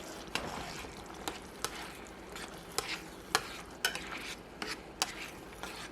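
Tomatoes stirred into a pan with minced garlic: soft sizzling underneath, with a series of sharp spoon-on-pan clacks spaced irregularly, fairly quiet and close.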